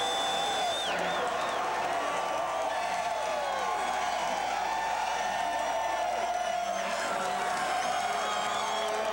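A large stadium crowd at a CFL football game at McMahon Stadium cheers and whoops continuously, a dense roar of many voices with scattered whistles and clapping, steady and loud throughout.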